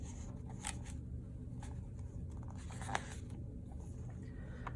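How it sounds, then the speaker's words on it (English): Close, faint scratchy strokes of a pencil moving across paper come in short irregular bursts over quiet room noise. "The boy's pencil shook as he drew his line."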